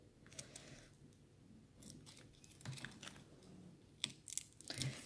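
A cured gel fingernail tapped to test that it is hard and dry gives a few faint, sharp clicks, spaced irregularly and loudest near the end, in an otherwise quiet room.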